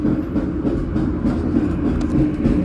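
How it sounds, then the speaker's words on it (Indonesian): Pasundan passenger train running through Solo Balapan station, a steady low rumble and rattle of the carriage rolling continuously at close range, with no talk. "Saat ini kereta kita berjalan langsung di stasiun Solo Balapan"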